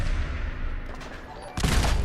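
A headshot gunshot in Fallout 4 bursts out loud and broadband near the end, following a stretch of rumbling game noise and faint speech underneath.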